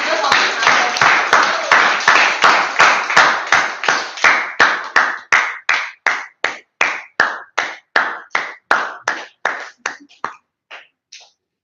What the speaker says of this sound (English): let's give our biggest and loudest round of applause to invite our table topic master